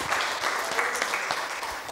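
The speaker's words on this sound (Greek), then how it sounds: "ένα μεγάλο χειροκρότημα" Steady audience applause at a poetry collection launch, dense and continuous clapping filling the room throughout, with no voices over it.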